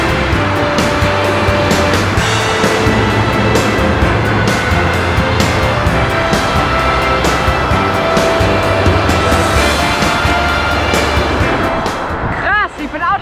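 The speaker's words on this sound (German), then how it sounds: "Krass, wie viele Autos einen im Tunnel überholen können" Cars overtaking a bicycle inside a single-lane tunnel, a loud continuous roar of engines and tyres echoing off the walls, with repeated passes layered over constant rumble.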